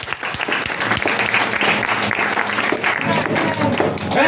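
A church congregation applauds steadily and loudly throughout, a dense wash of many hands clapping with voices and cheering mixed in under the claps.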